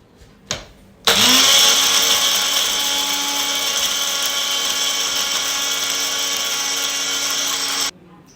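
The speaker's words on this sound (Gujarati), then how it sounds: "હવે આ મિશ્રણને આપણે ક્રશ કરી લઈશું" A mixer grinder crushing a dry mixture of lentils, sesame seeds and Kashmiri red chili powder runs loud and steady for about seven seconds with a high whirring whine, starting abruptly after a brief knock and cutting off sharply.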